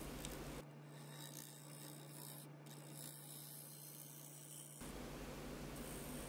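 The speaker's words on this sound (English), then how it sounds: "I have the Carter & Son 1-inch shear scraper here," A Carter & Son 1-inch shear scraper cuts a wooden bowl on a lathe, giving a steady soft rasping scrape over a constant low motor hum, with a brief louder stretch at the start and again near the end.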